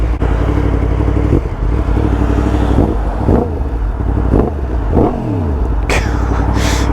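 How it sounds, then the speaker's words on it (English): A Yamaha MT10 with a loud Akrapovic exhaust revs hard and close, its deep, continuous engine roar rising and falling in repeated blips. "I'm just going to go around revving everywhere at this point. It just sounds incredible."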